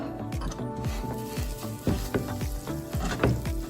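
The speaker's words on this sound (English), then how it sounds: "So you begin by melting the butter" Butter melts and sizzles in a pot, a lively crackling hiss broken by repeated stirring strokes close by, with no talking.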